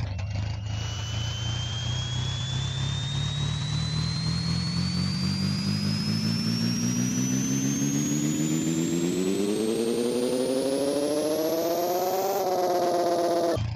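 An Acura Integra with a Spoon engine revs hard and climbs steadily through one long rising sweep in the Pixel Car Racer mobile racing game, loud and continuous with no talk over it.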